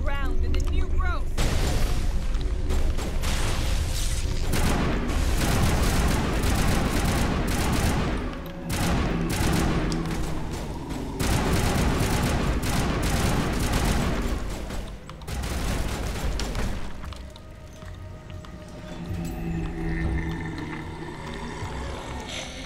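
Sustained loud gunfire and explosive blasts in the Mass Effect video game, a dense barrage rolling on for many seconds with short lulls, layered with game effects and occasional voices.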